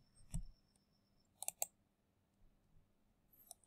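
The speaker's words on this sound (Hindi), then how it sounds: "उसके बाद सबमिट पर क्लिक करना है।" A computer mouse clicks on a web form's submit button: sharp, close, dry clicks, one early, a quick pair in the middle and another near the end, in a quiet room.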